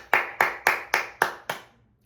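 Six crisp hand claps in an even, quick rhythm, close and fairly loud, the last one slightly softer before silence; clapping in praise of cricketer Tilak Varma.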